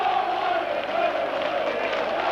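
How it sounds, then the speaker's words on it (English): Leeds rugby league fans roar at a 1991 Castleford versus Leeds match. The steady, far-off crowd noise holds loud throughout. "And you'll hear what the Leeds crowd think about it."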